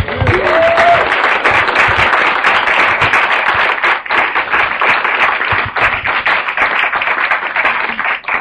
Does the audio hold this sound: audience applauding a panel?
yes